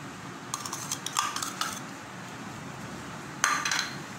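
A metal spoon clinks against a glass while mixing watermelon drink with lemon juice and black salt, with several quick bursts of clinking and a sharper final clink, close and clear over quiet background.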